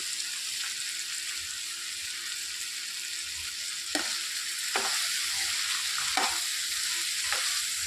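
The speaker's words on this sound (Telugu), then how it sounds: "టమాటాలు కొద్దిగా మగ్గాక ఈ ఆలుగడ్డలు వేసేసుకోవాలి" Potatoes going into a pan of softened onions and tomatoes, frying with a steady close sizzle and a few scraping stirs of a spoon, no voices.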